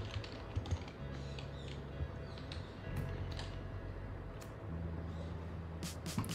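Typing on a computer keyboard while setting up Logisim-Evolution on a Mac, a steady patter of key clicks over a low hum, fairly faint and close.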